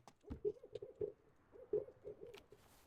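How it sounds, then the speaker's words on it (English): In the shop-management game Webstore Mogul, an owl hoots at night in soft, low calls. A few quiet hoots come in a loose rhythm, fairly faint and with no talking over them. "Is that an owl?"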